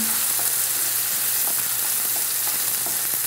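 Half a tin of blended tomatoes with a little tomato puree sizzles in a hot pan for a fish curry, a dense, steady, close frying hiss with faint pops and no talking.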